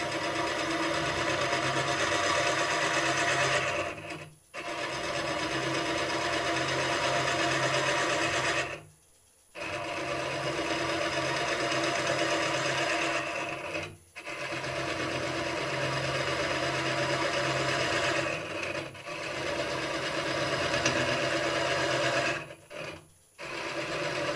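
Wood lathe hollowing with a HollowPro tool, producing a continuous whirring, scraping drone close by, interrupted by a few brief stops around every five seconds, with no voices.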